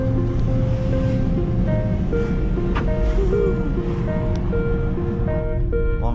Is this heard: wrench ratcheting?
no